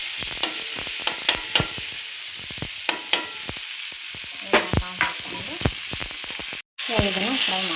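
Horse gram frying in oil on a tava, a loud continuous sizzle broken by repeated sharp scraping stirs of a spatula, with a brief dropout near the end.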